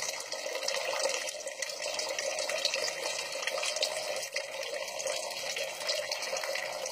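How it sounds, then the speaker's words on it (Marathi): Water pours steadily out of a vessel beneath a Krishna idol in a continuous splashing trickle, held at an even level throughout with no talking. "आता पूर्ण भांड रिकामं होईल तोपर्यंत हे सगळं पाणी आहे तसंच पडत राहील."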